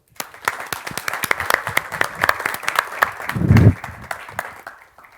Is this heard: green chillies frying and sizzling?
no